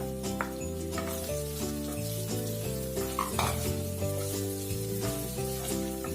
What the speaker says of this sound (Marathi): हा लाल होईपर्यंत परतून घ्यायचा व्यवस्थित.